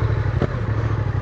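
A Yamaha XSR700 motorcycle with an aftermarket exhaust idles steadily close by, a low throbbing engine note with one brief clatter partway through, no talking.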